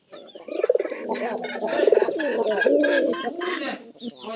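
Pigeons cooing nearby in a loft, several soft rolling coos overlapping in a continuous throaty murmur.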